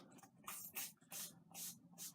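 Five short bursts of guitar polish spray hiss from a bottle onto a cloth, evenly spaced and close, with quiet gaps between each squirt.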